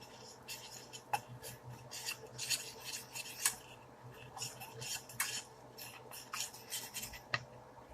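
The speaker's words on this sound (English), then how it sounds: "I'm going to stir it all together." A spoon stirs flour into dandelion greens in a pan, heard as quiet, continuous rasping scrapes in an uneven rhythm, close-up and fairly faint.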